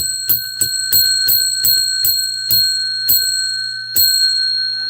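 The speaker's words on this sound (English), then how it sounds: "When we get to 100 thumbs up, we ring the bell 10 times." A bright bell rung about ten times in quick succession, each ding ringing out clearly with a slightly uneven rhythm.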